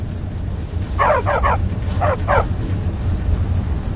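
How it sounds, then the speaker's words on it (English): Dogs in the video game Skyrim give two short bursts of barking, a quick triple yap followed by a double, moderately loud over a low ambient game hum. "The dogs were getting restless."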